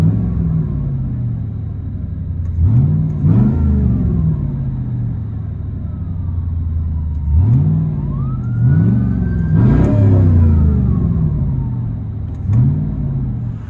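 A 2005 Cadillac Escalade with a 6.0L V8 and straight-pipe true dual exhaust idles with a deep rumble, then revs repeatedly in loud, close bursts.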